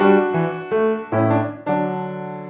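Plucked harpsichord chords move through a short closing cadence at the end of Purcell's "Sound the trumpet", four or five bright attacks that decay quickly, ending on a sustained final chord.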